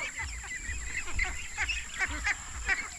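Pet ducks kept in a backyard pen quack and honk repeatedly in a busy, overlapping chorus close by, with steady outdoor background noise.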